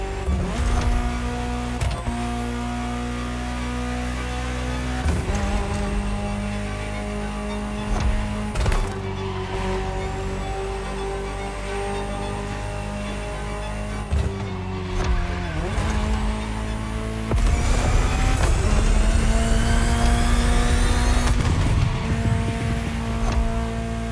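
Ferrari supercar engine in the racing game The Crew Motorfest, loud and close, revving through repeated gear changes with sharp shifts and rising pitch sweeps, alongside occasional tire squeal.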